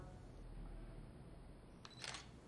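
A single-lens reflex camera taking a photo of a fly, one quick sharp shutter click near the end after a stretch of quiet background hiss.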